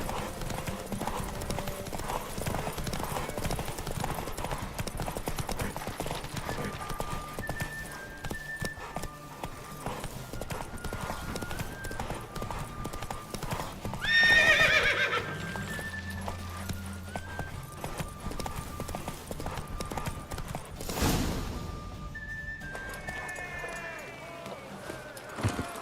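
Hoofbeats clip-clop steadily through The Witcher 3 as a mare is ridden hard, the galloping rhythm running throughout beneath game music, with a brief whinny near the middle.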